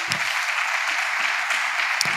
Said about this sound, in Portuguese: Você pode dar um aplauso pela palavra de Deus?